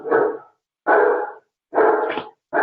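Close, loud barking from a dog heard during a webinar call: three full deep barks in steady rhythm and the start of a fourth, alone without speech.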